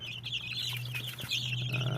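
Chicks of European poultry lines peep in a dense, continuous high chorus close by, with a steady low hum underneath and no talking.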